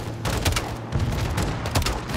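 Launcher fire and explosions in the video game Modern Warfare 2, a loud dense burst of blasts and rapid gunfire with heavy rumbling booms across the whole moment.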